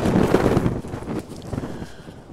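Strong wind buffets the microphone with heavy, gusting rumbles, loudest at the start and easing slightly toward the end, on a cold morning on the Appalachian Trail between Whitley Gap and Blue Mountain.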